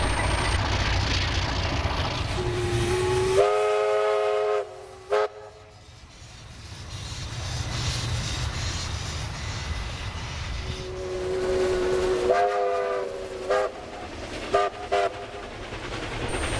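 A locomotive-hauled train sounds two long horn blasts, then rumbles past steadily with clattering wheels before the horn blares again near the end, near Kiama Railway Station, New South Wales.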